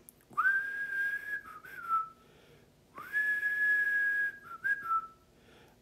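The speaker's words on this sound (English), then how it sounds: "I'm going to whistle." A person whistles two long sustained notes, each ending in a short falling warble, with a brief pause between them; clear and close, with no talking.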